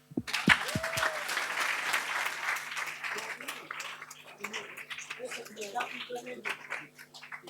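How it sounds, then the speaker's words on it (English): Applause at a project management pre-workshop session, a broad patter of clapping that swells early and then thins into scattered claps, with some talk and room noise mixed in. "So applause."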